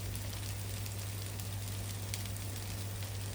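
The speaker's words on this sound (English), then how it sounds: "Sear the paneer until golden." Thecha-coated paneer sears in a hot pan, giving a constant crackling sizzle over a low steady hum, with no voices.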